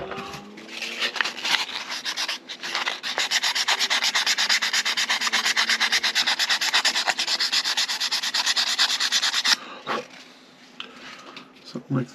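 Sandpaper works a wooden bowsprit part for a Model Shipways US Brig Syren ship model, making close, rapid back-and-forth rubbing strokes that run steadily for several seconds before stopping, with a few lighter scrapes before and after.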